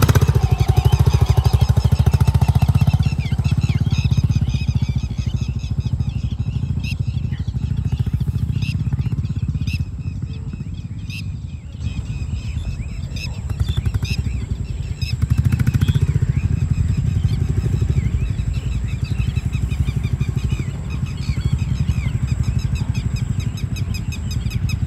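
A Royal Enfield Classic 350 with its 350 cc single-cylinder engine works steadily while riding off-road, a loud, continuous low thump that holds for most of the stretch, dipping briefly around the middle before picking back up.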